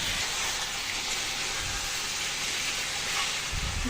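Water hits a pan of frying fish curry with potatoes and baim eel, giving a continuous, fairly quiet hiss and sizzle that stays steady from start to finish, with no talking.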